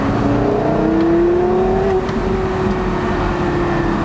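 A Porsche Carrera GT engine revs hard and continuously, its rising and falling engine note loud and close, with no talk over it.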